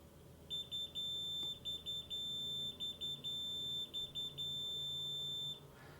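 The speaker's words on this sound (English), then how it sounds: "So that's 4 beeps" A run of shrill electronic beeps from a small Arduino-programmed UV box timer, four short pulses in quick succession, the final beep held longer, then silence.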